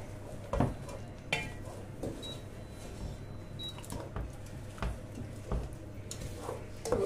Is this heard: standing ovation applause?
no